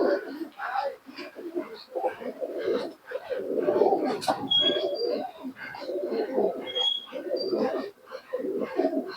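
Racing pigeons coo repeatedly in soft, throaty bursts close by, a continuous rolling chorus with occasional faint chirps.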